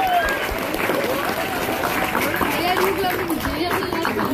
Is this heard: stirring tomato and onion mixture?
no